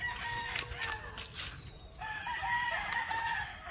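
Roosters and young stags crow in drawn-out calls, a couple of overlapping crows at moderate distance, with clucking and faint farmyard noise around them.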